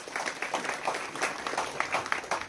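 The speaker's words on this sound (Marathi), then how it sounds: "त्यांच्यासाठी जोरदार टाळ्या वाजवा." Audience applause greeting an arriving guest at a town gathering in Jat, a steady patter of many hands clapping at moderate distance throughout, with no talk over it.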